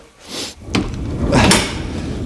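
Sliding and thudding of a door on an old GAZelle van being converted into a camper, with a scrape, a solid knock, and a louder clunk close by, in a noisy space.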